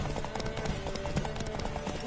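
Horse hooves clop along in The Witcher game as a steady run of dull thuds, mixed with background game ambience and muffled voices.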